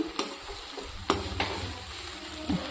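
Puffed rice ugani, a Rayalaseema dish, being stirred in a pan, with soft scraping strokes and a few sharper clicks of the spoon against the metal over a low background sizzle.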